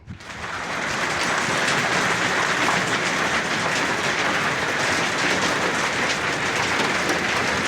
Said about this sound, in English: Yeah, we're getting hail again.